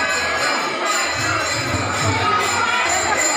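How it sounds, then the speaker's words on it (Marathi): Busy crowd at a village temple fair for Ashadhi Ekadashi, a dense, continuous murmur of many voices with children's shouts rising now and then close by. "काय खूप गर्दी आहे तुमच्या इथं देवस्थानामध्ये"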